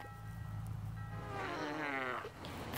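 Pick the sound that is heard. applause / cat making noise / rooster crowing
cat making noise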